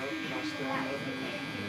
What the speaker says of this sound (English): We've got Andis Pro Li lithiums, and we're going to be just taking a nice line around the edges